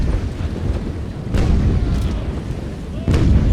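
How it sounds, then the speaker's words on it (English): A ship's cannons fire in the naval combat game Naval Action, with a few heavy booming shots spaced over several seconds against a rumbling background of wind and sea. "That's the first cannon that's going to shoot."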